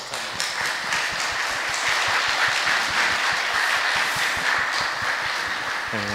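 Sustained applause from a church congregation after a Sunday sermon, steady and close, holding at an even level for several seconds.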